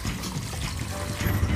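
Sap water running and trickling out of freshly tapped trees, a steady soft dribble close by throughout.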